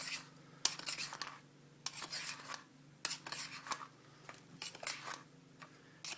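Green sand is stirred into a mixture with a metal utensil, giving repeated scraping, rasping strokes in uneven bursts, close and quiet, with no talk.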